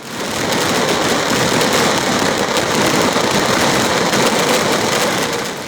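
Daytime fireworks at the close of Thrissur Pooram in Kerala, a loud, dense and continuous roar of crackling blasts that fills the whole stretch without pause, heard from close by with no voices.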